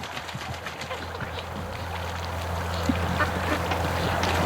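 Ducks being raised in a backyard flock quack in scattered calls over a steady low hum, moderately close and continuous throughout.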